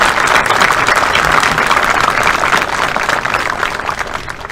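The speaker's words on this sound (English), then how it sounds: "Please give these businesses and these people a round of applause." A full round of applause fills a football awards banquet hall, dense and continuous clapping from the audience, easing slightly near the end.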